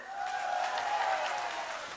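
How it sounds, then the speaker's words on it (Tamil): Audience at a Tamil temple festival stage for the Bannari Mariamman Kundam festival, soft, fairly distant applause, a steady patter of many hands fading slightly at the end. "நல்ல ஒரு கைத்தட்டல்"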